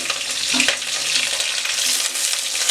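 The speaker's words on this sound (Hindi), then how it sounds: "और अब मैं इसके अंदर ग्रीन चिली डालती हूँ।" Green chillies fry with cumin seeds in a pan over a low flame, giving a dense, loud, steady sizzle that is close and unbroken, with faint stirring and no speech.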